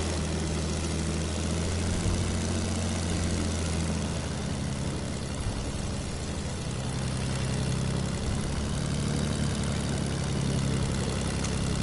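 Steady, loud propeller airplane engine drone in a battle royale video game, a continuous low hum running unbroken throughout with no speech.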